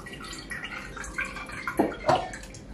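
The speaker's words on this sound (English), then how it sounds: "I am going to pour out the tea into this cold brew strainer thing." Steeped honeysuckle tea poured from a pot into a cold brew strainer, a soft trickling liquid stream with a couple of splashing gurgles near the end, fairly quiet and close.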